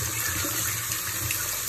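Water runs steadily from a tap into a sink as a small object is rinsed under it, a continuous close hiss with no pauses and no voices.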